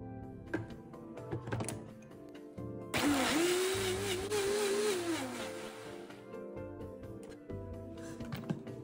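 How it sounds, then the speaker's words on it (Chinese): A kitchen blender pureeing chopped spinach with 100 ml of water, whirring loudly for about three seconds with a rising and falling motor whine, set between quieter background sounds. "再将菠菜搅成糊状"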